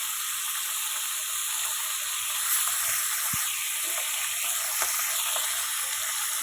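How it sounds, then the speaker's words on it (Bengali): Fish frying in a pan for a water-lily curry, a steady broad sizzle filling the clip with a few faint clicks and scrapes from the pan, no voices. "মাছটাও উল্টাই দেব। মাছটা উল্টা লাল লাল ভেজে"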